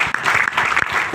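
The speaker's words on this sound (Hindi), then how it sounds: "तो एक बार जोरदार तालियां।" Audience at a business plan presentation breaks into loud applause, a short burst of many hands with a few sharper individual claps standing out, close and strong.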